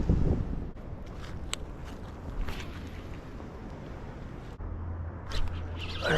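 Strong wind gusts across a river bank where someone is fishing for smallmouth bass, with a steady broadband roar and low buffeting rumble on the microphone throughout.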